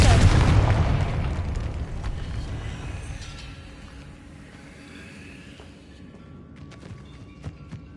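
Confringo fire spell blast from the Hogwarts Legacy video game: a loud, booming explosion that hits at once and then rolls off into a long, fading rumble with scattered faint crackles.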